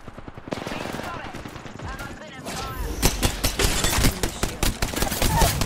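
Rapid automatic gunfire in the video game Apex Legends, dense bursts of shots that grow louder and more continuous, with a player talking over the action.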